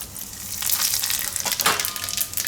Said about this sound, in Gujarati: તો તેલમાં આપણે નાખીશું થોડુંક જીરું આખું